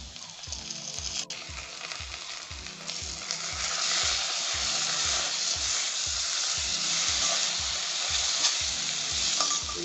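Chicken frying with turmeric and ginger garlic paste being stirred in, a loud continuous sizzle over regular scraping strokes of a spoon against the pan, close and alone.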